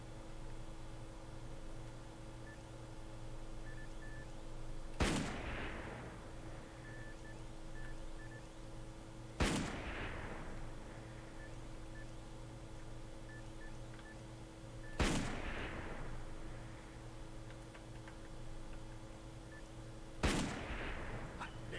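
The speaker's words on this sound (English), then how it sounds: "Is that a fucking cannon or what?" Cannon blasts from the video game Darkest of Days boom at regular intervals of about five seconds, four sharp loud reports over a steady low hum of game ambience.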